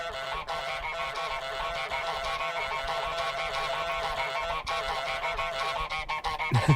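Repeated goose honks from Untitled Goose Game sound in steady succession, nasal and fairly loud, layered over a busy, continuous game backdrop with no talking.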